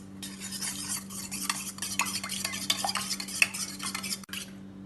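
Eggs seasoned with turmeric and pepper powder are stirred and mashed in a hot pan, producing irregular scraping and tapping of a utensil over a low sizzle and a steady hum.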